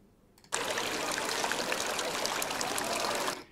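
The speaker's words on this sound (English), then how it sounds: "And I'm going to attach the fountain sound." Fountain water effect starts suddenly after a faint moment and runs as a steady, bright splashing rush at moderate level, cutting off near the end.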